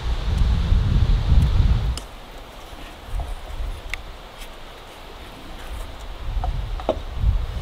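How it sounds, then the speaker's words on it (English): Wind gusts outdoors in an Alaskan summer setting, buffeting the microphone in low rumbling bursts: strong at first, easing off, then rising again toward the end, with faint rustling in between. "it is very windy out here"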